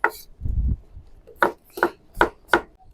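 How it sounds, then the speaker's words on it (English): A knife slicing red and yellow bell peppers into julienne strips on a cutting board, several sharp, distinct chops in an irregular rhythm, close and fairly loud, with a softer scraping or rubbing sound early on. "So our first bit of prep, we're going to go ahead and slice our peppers."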